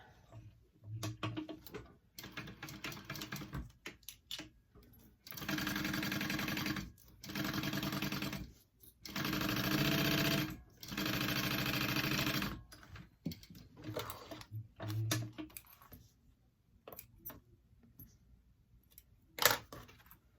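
Sewing machine stitching seams on a fabric hip bag, running in three steady bursts of a few seconds each with short pauses and handling noise between them, close and fairly loud.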